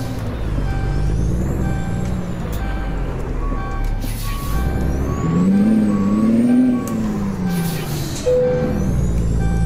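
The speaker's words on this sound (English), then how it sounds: "I know, it's a low air pressure beep." A steady beeping alarm for low air pressure sounds in a truck in the American Truck Simulator game, repeating on and on above a loud continuous engine rumble, with a brief higher tone near the end.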